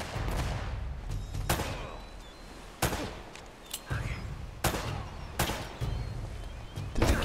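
Gunfire in Uncharted: Drake's Fortune: sharp, loud shots spaced a second or so apart, some in quick pairs, over a low rumbling game background.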